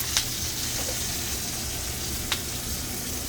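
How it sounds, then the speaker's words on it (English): Broccoli dropped into a hot pan with steak and butter sizzles and fries steadily nearby, with a couple of brief sharp crackles and no talk. "Now we're going to take our broccoli, dump it in there."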